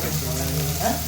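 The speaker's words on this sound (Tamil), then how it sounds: "பச்சை மிளகா நல்லா வேகலாம்" Green chillies fry in a hot pan for a black chickpea kurma, giving a steady close sizzle with a brief louder crackle near the end.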